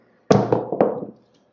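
Dice tossed onto a craps table, a sharp clatter followed by a second knock and quick tumbling taps that fade within a second, close and loud.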